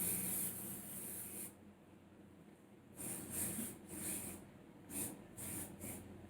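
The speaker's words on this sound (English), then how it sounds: "Same spray I'll spray on my like upper part that I curled now." Bursts of keep and set hair spray on curled hair, several short hissing sprays close to the mic separated by brief pauses, with quiet rustling between them.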